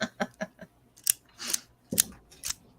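A vintage numbering stamp machine pressing onto paper, a series of sharp mechanical clacks and snaps, four quick ones followed by a few heavier, spaced impacts, close and fairly quiet with no talk.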